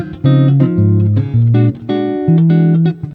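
Electric guitar through a humbucker neck pickup with a dark, warm jazzy tone, playing a short loud phrase of sustained notes and chords, close and clean with no talking.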